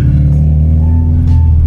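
A 1999 Honda Civic SiR VTEC engine with its exhaust rumbles loudly and close, a deep steady idle-to-rev drone with strong low throb for under two seconds, no talk over it.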